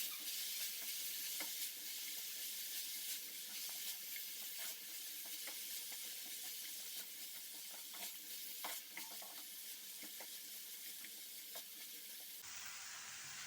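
Mixed vegetables for spicy vegetable Maggi sizzle softly in a hot pan as they are stirred, with scraping clicks of the spoon over a steady frying hiss.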